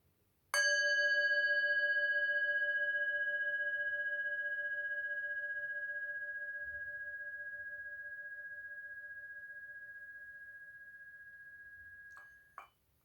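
A single meditation bell struck once, ringing out clear and bright with a long, slowly fading sustain that hangs alone in a quiet room for over ten seconds before a faint bump near the end.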